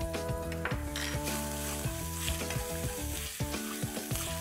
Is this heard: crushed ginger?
yes